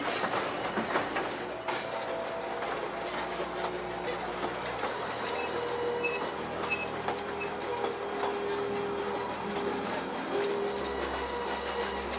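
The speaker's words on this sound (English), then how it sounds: "Along the way we caught up with Douglas, who was coming back with a down train" A model train runs steadily along a model railway layout, its wheels clicking and rattling continuously over the track joints at close range for the whole stretch, with faint squeals and hum underneath and no voices.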